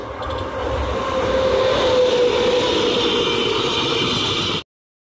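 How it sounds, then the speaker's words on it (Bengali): A train rolling in at Gangpur station in India, a steady loud rumble of wheels and carriage noise with a faint high squeal, sustained for several seconds before cutting off abruptly. "ট্রেনটা চলে এসেছে"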